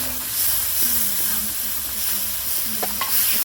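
Two medium chopped tomatoes hit a hot pan of spice paste with a little water, crackling and sizzling steadily as they are stirred, a close continuous hiss with small scrapes, no voices.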